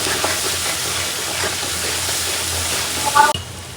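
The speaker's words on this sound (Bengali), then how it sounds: "ভালো করে মশলাটা কষাবো এখন।" Spice paste with salt sautés in a pan at close range, a steady loud sizzle and hiss with faint stirring scrapes, ending in a brief clatter.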